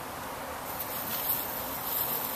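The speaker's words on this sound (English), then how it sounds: "Move the bees out of the way." Honeybees swarm close around an open hive during a hive installation, a steady, dense buzzing drone with slight swells in loudness and no talk.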